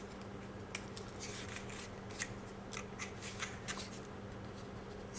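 Faint, steady scraping and snipping as a blade bevels cardboard for a drawer compartment, with rhythmic little strokes over a low hum and no voices.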